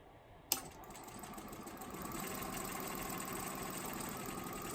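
A sewing machine runs steadily, stitching quilt pieces for flying geese blocks with a 1/4 inch seam; after a brief click it settles into a continuous mechanical hum and whir, close and moderately loud, with no talking.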